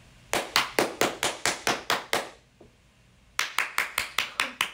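Two bursts of loud, close hand clapping, eight quick claps, a pause of near silence, then another run of about seven, no voices.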